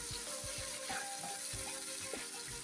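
Ginger, onion and garlic paste frying in hot oil for a chicken kofta curry, a steady broadband sizzle with faint stirring clicks and scraping throughout, no talking.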